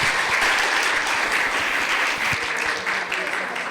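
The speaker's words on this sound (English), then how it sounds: "clap for you." An audience at a school debate competition bursts into loud, dense clapping that holds steady and tapers slightly near the end, with some voices mixed into the applause.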